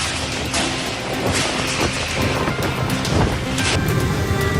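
Strong tornado winds batter house roofs in Banjarnegara, Central Java, a steady loud broadband roar of gusting wind with rumbling low end, continuous throughout with no speech.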